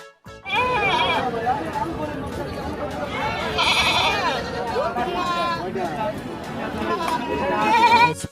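Goat bleats, wavering and nasal, in a children's phonics alphabet song, over lively children's chatter and babble throughout.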